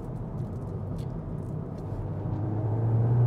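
A Cupra Ateca VZ 300bhp SUV driving, its exhaust and engine giving a steady low rumble that swells toward the end as revs climb.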